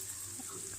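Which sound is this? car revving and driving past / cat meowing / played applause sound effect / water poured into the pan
water poured into the pan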